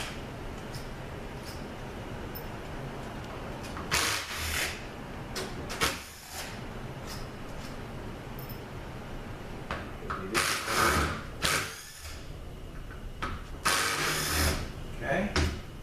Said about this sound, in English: loosening those bolts.